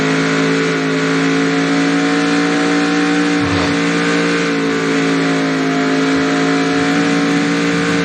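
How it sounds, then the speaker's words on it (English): A race car at Nashville in the racing game NR2003 holds a loud, steady high engine roar through a burnout, with the pitch staying nearly constant and small wobbles midway. "I'll go do burnouts here today at here at Nashville"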